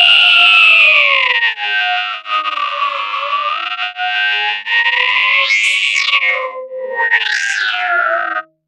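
Hi-hat run through a classic LFO modulating its pitch and turned into an atmosphere, giving a loud, sustained, shimmering tone that wobbles and sweeps up and down in pitch, with no talk.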